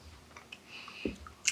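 Saltine toffee with M&Ms is chewed up close, a few soft, moist crunching bites and squishes spaced across a brief, quiet moment with no talking.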